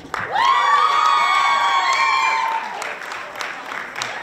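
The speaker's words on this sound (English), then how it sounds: "There's a round of applause for these folks" A crowd claps and cheers for young singers at the Weston Can Sing! competition, while a high, sustained tonal sound with whoops rides over the applause before settling into plain clapping.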